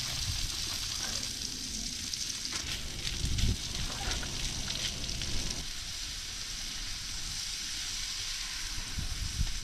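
Potatoes, peppers, onions and mushrooms sizzle and fry in a pan on a camp stove while truck camping, a steady close crackle with occasional stirring scrapes.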